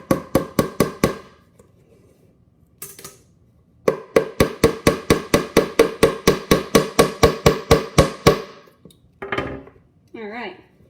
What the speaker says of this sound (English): I'm going to go ahead and hammer a nail a little bit higher